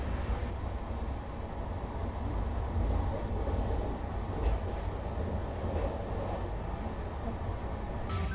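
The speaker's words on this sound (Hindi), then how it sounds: "ये डिस्टेंस जो है ना वो नॉन स्टॉप ट्रेन चलने वाली है" Steady rumble from inside the Mumbai Rajdhani Express as it runs nonstop, with a constant low roar of wheels and carriage noise and a few faint rhythmic clicks.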